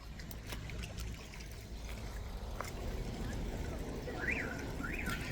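Drinking water running steadily from a leak in Erebuni, a faint constant rushing trickle with a few small chirps near the end and quiet voices in the background.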